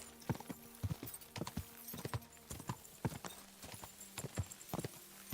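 Horse hooves clip-clopping in Kingdom Come: Deliverance II, a steady rhythmic series of close, crisp hoofbeats with faint ambient background.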